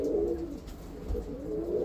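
Roller pigeons cooing inside a loft, soft low murmuring coos that run on steadily and close by, with no talk.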